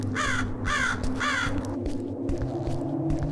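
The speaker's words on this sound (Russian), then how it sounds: "Интересно, ворона имеет какое-то значение тут?" Three loud, harsh crow caws in quick succession, heard in the video game Buried Alive Breathless Rescue over a low, steady ambient drone that continues alone afterward.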